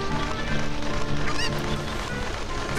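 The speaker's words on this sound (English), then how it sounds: "definitely take the chicken" Cucco chickens clucking and squawking in The Legend of Zelda: Ocarina of Time, a dense run of bird calls mixed with game music, steady and moderately loud throughout.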